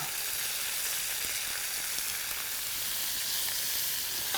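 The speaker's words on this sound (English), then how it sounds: "And we just want this rabbit to brown off in here." Rabbit pieces browning in a paella pan give off a steady, dense sizzle that hisses evenly throughout, close and fairly loud with no talking.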